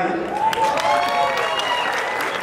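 A television studio audience on a Dominican variety show applauds loudly and steadily, while music and a voice carry on over the clapping.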